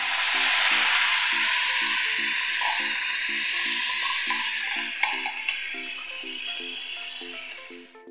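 Spice paste of cinnamon and cardamom powder hitting a hot pan for potato-paneer curry, a loud, steady sizzle and hiss that slowly fades, with light stirring taps and a faint rhythmic tone beneath.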